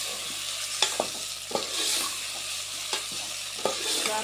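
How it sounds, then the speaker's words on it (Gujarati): Potatoes with tomatoes and chillies sizzle in a pan while a spoon stirs them, with several soft scraping knocks over a continuous frying hiss, close and fairly quiet, with no talking. "હલાવી નાખવાનું સરસ રીતે."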